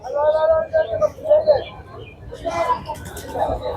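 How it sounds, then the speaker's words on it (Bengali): Pigeons coo in repeated soft, throaty bursts at a busy pigeon market in Tongi, close and clear, with people talking in the background. "এখানে তো অনেক কবুতর আছে"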